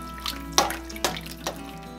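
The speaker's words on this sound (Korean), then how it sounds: "어묵에 뜨거운 물을 부어서 한번 헹구고" Hot water is poured over Korean fish cakes to rinse them, heard as a few splashy pours and drips at close range in a quiet kitchen.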